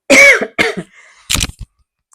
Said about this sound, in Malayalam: അമ്മയെ ചുമ വരുന്നു.